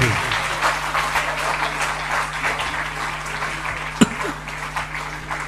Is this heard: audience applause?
yes